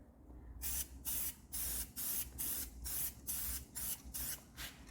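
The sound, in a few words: spray painting over tire marks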